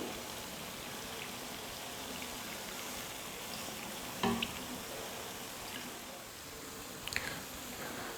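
Sweet bonda balls, a tea-shop snack, fry in hot oil with a quiet, continuous sizzle and a few sharp crackles and pops, with no one talking.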